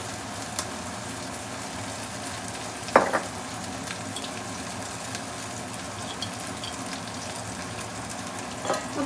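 Chicken frying on high flame in a kadai, a continuous moderate sizzle with occasional sharp clinks of a spoon or spatula against the pan.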